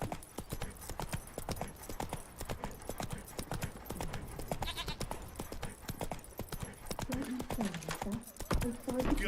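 Roach the horse's hooves clip-clop in a steady, close rhythm across The Witcher 3, with faint voices talking underneath.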